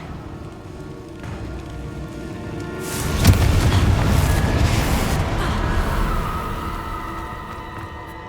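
A Confringo fire spell explodes in Hogwarts Legacy, a loud booming blast that rises suddenly partway through and then rumbles into a sustained crackling wash over a steady game ambience.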